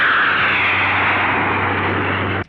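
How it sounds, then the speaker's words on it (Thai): An airplane passes overhead in a Thai-dubbed cartoon, a loud, steady droning roar that holds evenly for about two seconds before cutting off abruptly. "นั่นเครื่องบินค่ะ"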